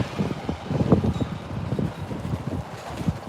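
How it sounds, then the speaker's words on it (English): Strong wind buffets the microphone in loud, gusty low-frequency rumbles, continuous and uneven throughout, outdoors at the Florida RV SuperShow. "everything is very windy today. Extremely windy."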